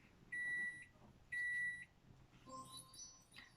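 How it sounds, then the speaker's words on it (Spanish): A microwave oven heating food gives two short, even electronic beeps about a second apart, quiet over faint background hum, followed by softer tones. "Ese es el sonido que produce un microondas cuando está calentando una comida."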